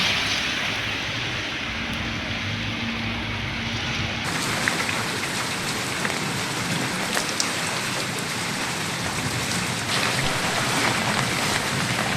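Heavy monsoon rain pours steadily during a depression-driven downpour over Andhra Pradesh and Telangana, a dense, even hiss throughout with no voices, briefly overlaid by a faint hum early on.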